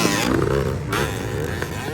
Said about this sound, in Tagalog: Nagpurot-purot ng motor